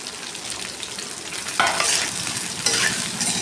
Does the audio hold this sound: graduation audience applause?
no